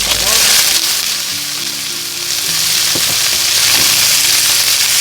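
Garlic, tofu and blood stir-fry in a hot pan for a Thai bean sprout dish, a loud, close, continuous sizzle with occasional clatter from stirring.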